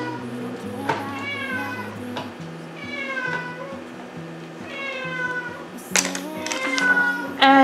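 An indoor cat gives several separate meows, some long and rising, spaced across a few seconds at moderate distance, with a brief voice or sharper sounds near the end.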